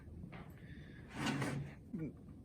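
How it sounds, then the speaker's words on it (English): Wooden drawers built in a workshop slide open and shut on their drawer slides, giving a brief rushing glide that swells in the middle and then stops with a soft knock, close by over a quiet room. "Tanner, give these lovely people at home a great demonstration of these drawers we have built."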